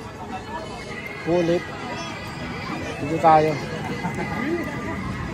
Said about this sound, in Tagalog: Mga kabayo guys, pagod na.